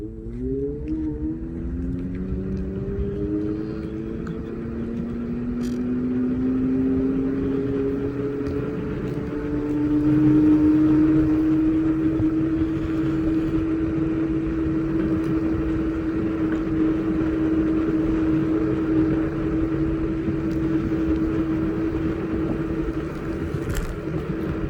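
A Segway Ninebot Max G30 electric scooter riding at full speed, about 30 km/h, down a back alley, its motor whine rising in pitch and then holding steady under loud continuous wind and road rumble.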